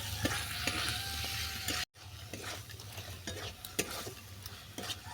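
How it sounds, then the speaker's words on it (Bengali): Boneless chicken mince being stir-fried in a pan, a soft steady sizzle with a utensil clicking and scraping against the pan in repeated strokes, quiet and close, briefly cut to silence midway. "কিমাটাকেও ভালো করে কষিয়ে নিচ্ছি"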